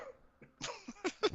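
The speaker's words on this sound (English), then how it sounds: "I was coughing." A few short coughs from a person during a live podcast-style show, clustered bursts at close range, fairly quiet and without speech over them.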